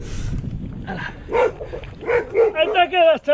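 A dog chases a cyclist along a rural road, giving a run of excited yips and whining barks that grow louder and higher toward the end, mixed with wind and road noise from the moving bike.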